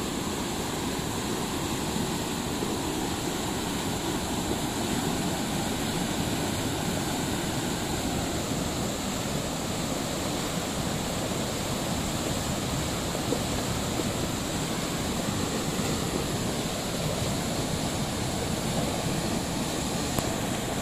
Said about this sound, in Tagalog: Rumaragasa yung tubig.